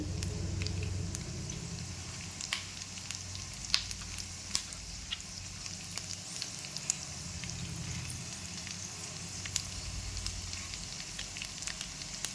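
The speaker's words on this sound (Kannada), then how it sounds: "ಇದನ್ನು ಒಂದು 5 ನಿಮಿಷ ಅಲ್ಲ, ಒಂದು 2 ನಿಮಿಷ ಫ್ರೈ ಮಾಡ್ತೇನೆ" Charoli nuts frying in a pan give a steady soft sizzle with scattered small pops and crackles, close and fairly quiet, with no talking.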